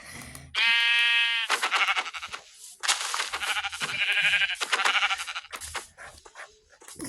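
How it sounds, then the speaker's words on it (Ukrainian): A loud, drawn-out sheep bleat in a video game, harmonic and nasal, followed by a few more shorter bleating calls amid busy game noise. "намагаюся вівцю вбити"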